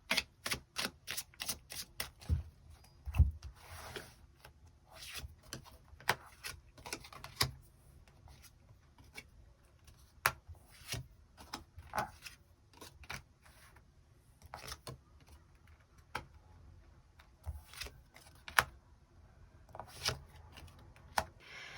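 Tarot cards being shuffled and drawn, a run of crisp, sharp slaps and flicks in an irregular rhythm, loud and close, with quieter rustling between the snaps and no talking.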